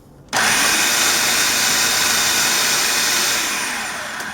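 A kitchen blender or food processor purees peppers and garlic with a loud, steady whirring roar that starts abruptly and runs almost the whole time, close and alone.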